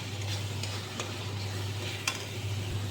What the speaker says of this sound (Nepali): नुन हालेर एकछिन चलाउँछु।